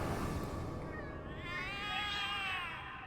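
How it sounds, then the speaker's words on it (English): Several cats meowing in The Cat Lady video game, drawn-out, wavering, alarmed cries that overlap and rise and fall over about three seconds, fairly loud against a quiet background. "The cats are alarming."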